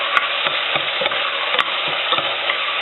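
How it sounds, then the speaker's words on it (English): Ground meat browns in a hot pan, a loud continuous sizzle and crackle broken by regular scraping strokes of a spoon stirring through it, with a couple of sharper clicks. "I want to brown my meat, okay, before adding the onion"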